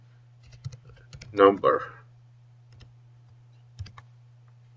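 Computer keyboard typing with a few scattered key clicks, faint and sparse, partly under a man's speech and a steady low hum.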